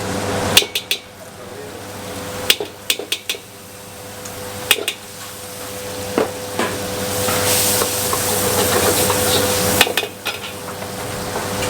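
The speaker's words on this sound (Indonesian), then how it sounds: "Ini ada menteganya, langsung gue masukin." Butter dropped into a hot pan while cooking an egg bento dish, giving a steady frying sizzle with scattered sharp clicks and clanks of utensils against cookware, no talking.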